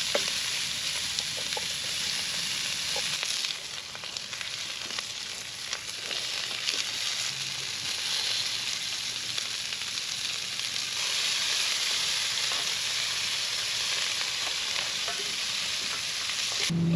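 Beef and broccoli pasta fries in a pan at an outdoor camp cooking setup, a steady close sizzle with occasional stirring, continuous for the whole stretch with no talk.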